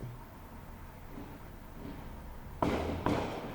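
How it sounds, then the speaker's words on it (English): Fireworks bursting outdoors at night in New York, two sharp booming reports near the end, fairly loud against a quiet background rumble. "Oh, you guys can't see it, but those are some really pretty fireworks."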